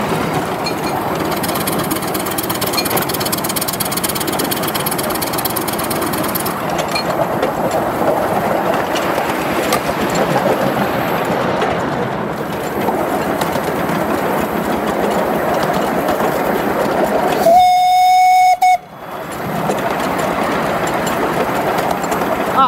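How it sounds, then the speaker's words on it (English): Miniature 7.25 inch gauge steam locomotive running steadily at close range, a continuous chuffing, rumbling drive with a brief sharp whistle near the end, under a spoken voice. "coming out on a lovely miniature steam engine, especially on the 7 1/4"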